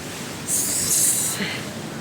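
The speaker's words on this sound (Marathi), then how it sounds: "आता बघा ही लाट येते ह्या लाटेने आतमध्ये पाणी घुसायला लागलं आहे" A big floodwater wave surges in with a sudden loud hissing rush of spray over a constant background roar of water, then fades back.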